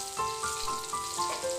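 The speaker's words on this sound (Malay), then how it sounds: "kalau hendak menggoreng ikan supaya garing dan masak di dalamnya" Constant close sizzling and crackling of battered fish frying in hot oil over a low-medium flame, with faint tonal hum beneath.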